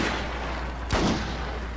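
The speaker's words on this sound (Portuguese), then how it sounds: "vou dar uns tiros aqui e explodir teu barco" A single sharp gunshot cracks out in a co-op session of the shooter game Far Cry, one brief loud report in the middle of low steady background noise.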